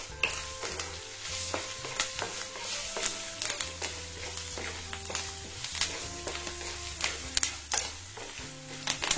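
Green and dried chillies fry in oil for tamarind rice, a close, steady sizzle with a spoon repeatedly scraping and stirring the pan, no talk.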